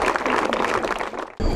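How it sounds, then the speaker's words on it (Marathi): A studio audience on a quiz talk show gives a contestant a dense burst of loud applause that carries steadily, breaks off briefly, then swells again near the end. "जोरदार टाळ्या यांच्यासाठी"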